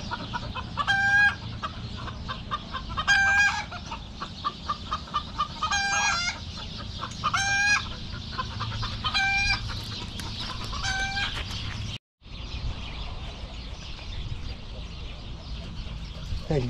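Chickens cluck steadily at a harbour while a rooster crows several times at regular intervals, all close by, over a low background hum with a brief cut near the end.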